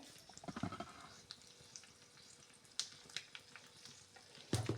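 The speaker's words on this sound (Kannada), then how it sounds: "ಜೀರಿಗೆ ಈಗ ಹಾಕ್ತಾ ಇದ್ದೀನಿ." Cumin seeds drop into a hot pan for a healthy gooseberry (nellikai) tambuli, giving brief crackles and a soft sizzle. Two sharper bursts stand out, one near the middle and one at the end, and no one speaks.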